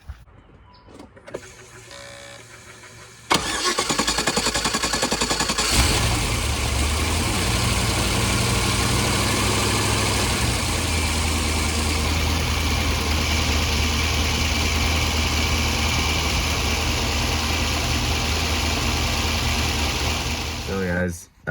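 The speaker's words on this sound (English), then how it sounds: "I'll give her a quick fire up for you guys" A car with a blown differential cranks briefly, then its engine catches and settles into a loud, steady idle up close, holding a constant rumble for the rest of the time.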